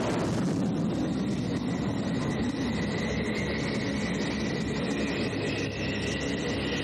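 An early GR model Harrier jet landing on a ship's helipad makes a loud, continuous jet roar and whine, steady throughout.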